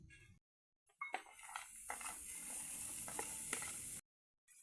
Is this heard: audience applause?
no